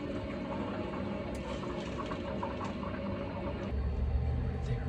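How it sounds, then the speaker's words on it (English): Water rushing through freshly opened supply valves on a water heater install, a steady hissing flow that grows slightly louder and heavier toward the end. "Opening these water valves."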